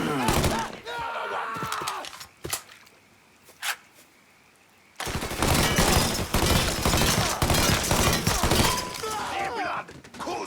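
Gunfire in the action game Mafia 3, dense bursts of shots with shattering impacts, a quieter stretch holding a few isolated cracks, then a loud sustained barrage, with a voice heard among the shots.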